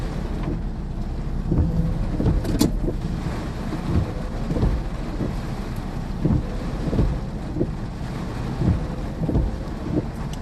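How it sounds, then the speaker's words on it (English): Strong gusty wind tosses trees during a thunderstorm in southern Iowa, a continuous roaring rush with buffeting against the microphone and low rumbling surges recurring every second or so. "The trees really blowing from the winds"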